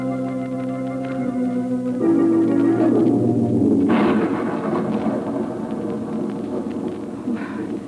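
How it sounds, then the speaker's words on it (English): A thunderstorm in a radio drama, with a deep rolling rumble of thunder swelling and then fading under heavy, noisy storm sound, loud and alone with no speech. "I'm not afraid of the storm."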